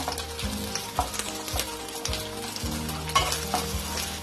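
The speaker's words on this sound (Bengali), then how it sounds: "একসঙ্গে হালকা নাড়াচাড়া করে ভেজে নেব।" Sliced onions sizzle steadily in hot oil in a pan while a utensil stirs them, with a soft scrape roughly every half second, close and continuous, no talk.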